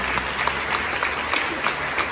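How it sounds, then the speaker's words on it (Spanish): Audience at a church retreat applauding their Samaritan community, a brisk, moderately loud burst of many hands clapping with faint voices mixed in. "Un aplauso a nuestra comunidad samaritana."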